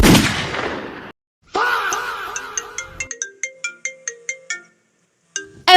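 A mobile phone ringtone plays as a run of sharp, evenly spaced electronic tones, loud and close, after a brief burst of noise, with a short gap before it resumes at the end.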